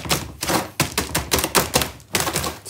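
A plant pot holding a cranberry shrub is tapped repeatedly to settle the soil. About ten quick, even knocks come in a steady rhythm, close and clear, with no talking.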